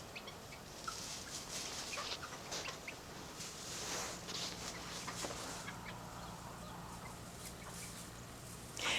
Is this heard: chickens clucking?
yes